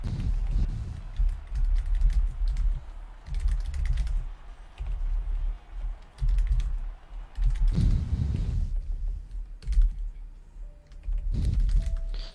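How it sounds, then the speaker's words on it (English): Busy keyboard typing and mouse clicks rattle on a desk during an F1 2021 sim racing league session, dense clattering bursts with short pauses over a steady low hum, close up and without speech. "you can hear literally every tap of key or on the desk, everything that I do"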